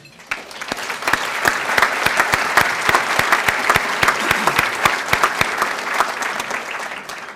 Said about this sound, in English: let everybody give you a round of applause for everything you do